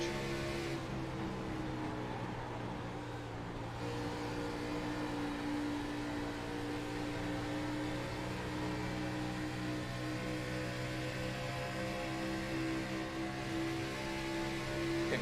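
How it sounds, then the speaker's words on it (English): Race car engine in a NextGen series race at Chicagoland, a continuous loud engine drone with steady harmonic tones and slight pitch shifts as the driver eases off, with no talking. "Hear him let off there as they went down the backstretch."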